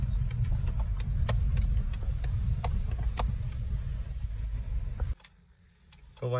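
A car drives along a road beside a river, its engine and road noise a steady, loud rumble that drops away abruptly near the end.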